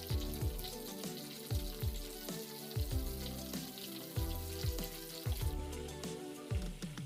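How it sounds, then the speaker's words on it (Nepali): Coated soya chunks fry in a pan for soya Manchurian, with a steady sizzle broken by frequent close crackles and pops in an uneven rhythm. "सबै सोयाबिन हालिसकेपछि चाहिँ एकपट्टि मजाले फ्राई भइसकेपछि मात्रै अर्कोपट्टि चलाउनुहोस् होला।"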